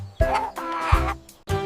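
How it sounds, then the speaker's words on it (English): A rooster crows and clucks close up, several loud bursts in quick succession with short gaps, alone without talk. "This is a rooster. It wakes us up. Cock-a-doodle-doo,"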